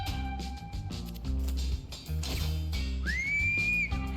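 A whistle ability in the video game Mewgenics sounds as a bright whistle tone, with a sustained note early and a rising, sliding whistle near the end, playing over layered game music.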